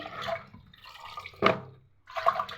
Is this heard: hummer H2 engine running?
no